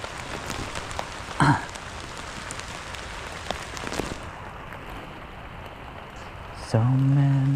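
Rain falling on a surface, getting heavier, a steady broadband wash with a few sharp pops and brief voices or sounds over it.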